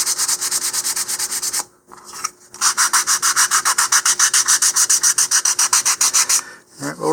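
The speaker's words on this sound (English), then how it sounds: "we're just sanding these just like we did before." Close, loud sanding on wooden model rocket fins: rapid back-and-forth rasping strokes in a steady rhythm, with two brief pauses, and no talking.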